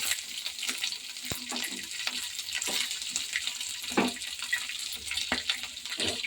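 Green chillies and onions fry in a pan, giving a continuous close sizzle broken by sharp clicks and scrapes as the mixture is stirred, with no talking.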